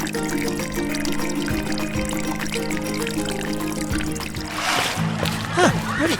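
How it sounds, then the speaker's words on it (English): A running LEGO tri-flow toy water pump pours water in a steady splashing, trickling stream that builds in the last couple of seconds, with toy-ride tones and excited voices alongside. "My tri-flow pump is running"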